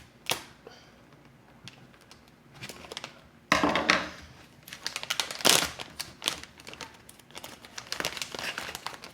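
Plastic toy packaging being handled, cut and opened, giving bursts of close crinkling and rustling with some sharper crackles, louder toward the middle and continuing in irregular spurts.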